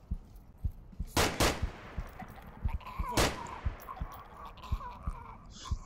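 Rapid gunfire in the VR shooter game Onward: a few loud, sharp shots stand out among quicker, fainter bursts, heard alone without talk.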